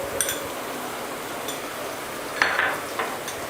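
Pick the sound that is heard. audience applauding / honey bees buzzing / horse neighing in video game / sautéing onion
sautéing onion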